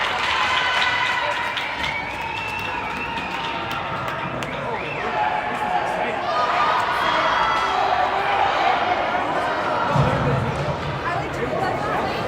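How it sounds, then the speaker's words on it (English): Steady roar of a crowd at a college ice hockey game between OMGHA and Hopkins in an arena, continuous and loud throughout, with a play-by-play commentator talking over it. "A lot of noise being generated by the crowd"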